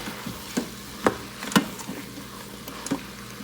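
Chili being stirred in a pot after chili powder and garlic powder go in, with a few soft scraping knocks of a spoon against the pot at irregular intervals, quiet and close.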